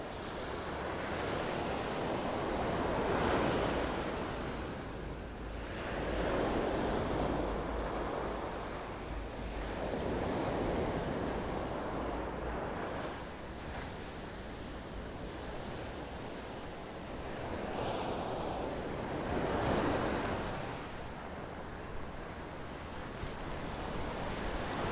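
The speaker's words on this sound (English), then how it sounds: "Listen to those waves pounding on the beach here" Ocean waves roll in and crash on Vanderbilt Beach in North Naples, Florida, in slow, repeating surges, with wind noise throughout and no voices.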